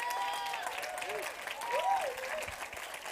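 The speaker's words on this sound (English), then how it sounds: "give yourselves a round of applause for surviving the bloody pandemic" Audience applause at a live theatre awards ceremony, a steady wash of clapping held at a moderate level for the whole stretch, with faint whistling tones drifting over it.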